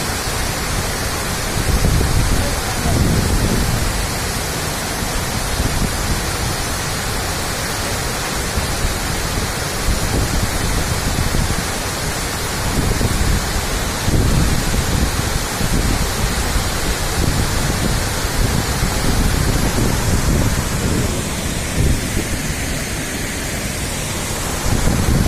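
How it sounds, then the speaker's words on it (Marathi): Umbrella Fall at Bhandardara pours after a water release, making a loud, continuous rushing roar close by, with gusty rumbles of wind across the microphone and no voices. "पर्यटकांअभावी संपूर्ण परिसरात फक्त पक्ष्यांचा किलबिलाट, पाण्याचा खळखळाट एवढाच आवाज येतोय."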